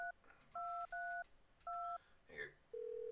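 Touch-tone telephone dialing in the Thimbleweed Park video game: several spaced dual-tone keypad beeps, faint and clean, then a steady ringback tone begins at the end.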